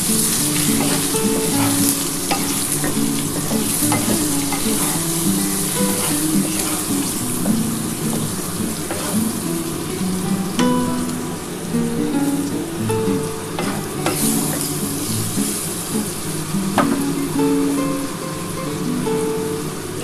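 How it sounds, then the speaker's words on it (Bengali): Steady, loud sizzling of food frying in a pan, with occasional crackles and pops throughout, no voices. "ভাজা ভাজা করে নিতে হবে"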